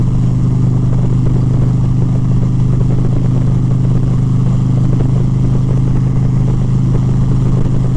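A 2023 Indian Pursuit Dark Horse bagger motorcycle idles close by, a loud steady low rumble with constant mechanical clatter and no change in revs.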